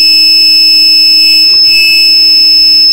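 A buzzer on an ESP32 electronics project sounds a loud, continuous high-pitched electronic tone that holds steady for the full three seconds.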